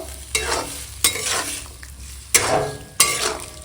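A spatula scrapes through cauliflower curry with spices in a pan, four sharp strokes at uneven intervals over a soft frying sizzle, close and fairly loud.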